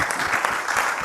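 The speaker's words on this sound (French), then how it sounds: "Applaudissez pour nous." An audience at a cinema master class applauds, a dense, steady wash of clapping that stays loud and even for the whole short stretch.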